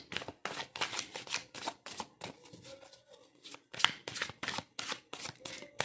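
A deck of cards shuffled for a weekly reading: repeated crisp riffling bursts in a fairly regular rhythm, close and clear with no talk over them.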